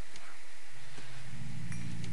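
A low, drawn-out moo from cows in a Minecraft farm rises in the second half over a steady hum, with faint clinks earlier; the lowing is close and sustained.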